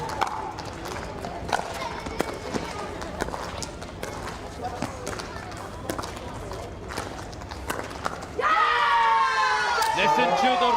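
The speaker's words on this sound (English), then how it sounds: "Listen to the roar. The kids loving it. Crowd joining it here in New Delhi." Crowd at a pickleball match in New Delhi, scattered footsteps, ball hits and murmurs giving way to a sudden loud roar and cheering with children shouting over the last few seconds.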